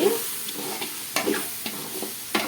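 Biryani masala and red chilli powder being sautéed in a pan for mutton biryani: a steady, close frying sizzle broken by several scraping stirs of the spatula, with no talking.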